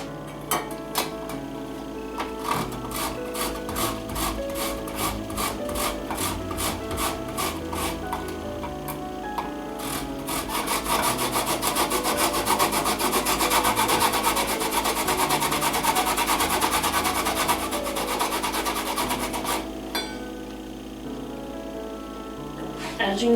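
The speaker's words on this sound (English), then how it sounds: "one of the things that this needs is lemon zest or lemon rind. So, taking just a handheld one," Lemon rind scraped against the finest side of a handheld grater, a rapid rhythmic rasping of quick strokes that grows denser and louder midway and stops near the end, with a voice talking faintly underneath.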